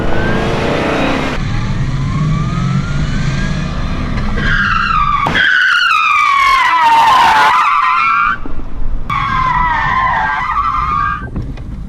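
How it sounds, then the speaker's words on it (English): A Ford Mustang's tires skid hard as the e-brake is pulled, with loud engine revving and a long screeching squeal that rises and falls, close and dominant. "I'm gonna test out the e-brake"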